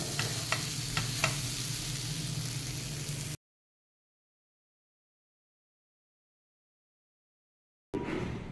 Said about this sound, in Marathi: 1-2 मिनटं परतून घ्यायचं आहे आणि मग गॅस बंद करायचा आहे.